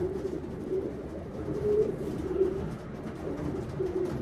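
Racing pigeons coo softly and repeatedly in a loft, low murmuring calls recurring over a steady background hum.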